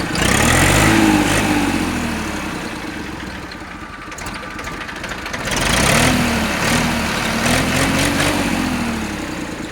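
A New Holland 3230 NX tractor engine idles nearby with a steady low rumble, its pitch rising and falling slightly as the revs waver.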